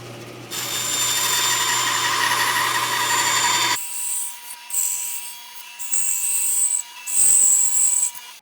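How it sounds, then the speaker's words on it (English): A bandsaw cuts out the toe kick areas of a wooden cabinet side. A loud, steady whir and cutting roar gives way to a higher motor whine with short bursts as the blade works through the wood. "My preferred technique for cutting out the toe kicks is a bandsaw."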